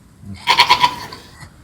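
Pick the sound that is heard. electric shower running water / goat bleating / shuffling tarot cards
goat bleating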